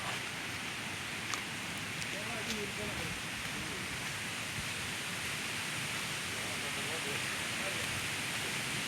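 Broad, steady hiss of rushing water from the Kaigal waterfall in Chittoor district, a dense continuous roar heard from some distance, with faint bird chirps and a voice murmuring faintly underneath.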